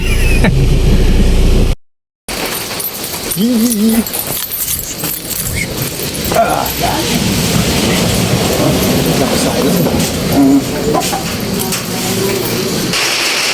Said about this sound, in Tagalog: Oh boy, lakas ng ulan guys.